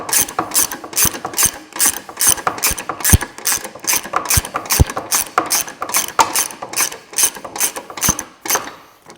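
A ratchet loosens a long 10mm bolt during MG ZS 180 front bumper removal, giving rapid, loud, close clicking in quick repeated bursts with brief pauses between strokes.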